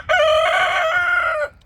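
A backyard rooster crows once, a single loud, close cock-a-doodle-doo held for about a second and a half with bright harmonic tone, alone with no talk.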